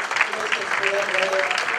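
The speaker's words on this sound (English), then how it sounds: "Give them a big round of applause." Applause from the audience at a Florida Cricket Association award ceremony, a steady patter of many hands across the whole moment, with voices murmuring underneath.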